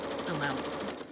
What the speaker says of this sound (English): I'll sew down the length of the second strip, again matching the edges and stitching a 1/4 inch seam